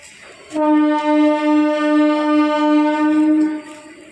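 A train horn sounds at Liluah railway station: one steady, loud blast close by, holding for about three seconds before it cuts off, with faint station background around it.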